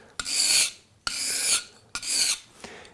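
A V-tool carving gouge stroked across abrasive sharpening grits: three separate rasping strokes, each about half a second long with a sharp start, close and clear with no talk.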